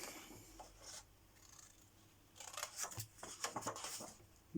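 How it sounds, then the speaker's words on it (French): Scissors cutting paper while making a handmade card: close, quiet snips and paper rustles, sparse at first and then a faster cluster of cuts toward the end. "Mais on va couper les papiers."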